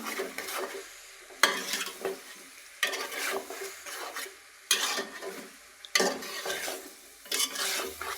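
Ash gourd pieces are stirred with country chicken bones and spices in a pot, with sharp, close scraping strokes of a spoon every second or so over a soft background sizzle.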